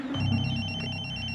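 A telephone rings with a steady electronic tone, sounding once and sustaining, fairly close with low background hum.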